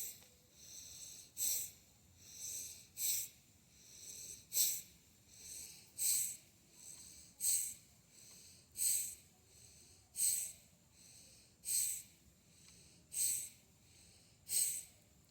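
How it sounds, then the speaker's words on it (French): Strong, forceful pranayama breaths during a breathing exercise, eleven or so sharp hissing exhalations in a steady rhythm about every 1.5 seconds, close and clear with quiet pauses between and no talking. "On va faire 10 respirations fortes, mais pas trop intenses."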